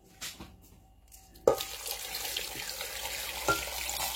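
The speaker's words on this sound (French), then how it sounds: "Là, je vais ajouter une grande quantité d'eau." Water is poured in a steady splashing stream onto peeled, coarsely cut sweet potato pieces in a pot, starting abruptly after a brief quiet moment and running continuously close by.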